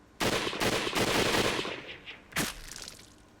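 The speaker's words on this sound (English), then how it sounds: "Then I heard the furious bangs of a group of guns firing at once" Soldiers fire a volley of guns in the Hakuoki video game: a burst of sharp overlapping bangs rattles out, followed by a second loud shot about two seconds later, with no talk.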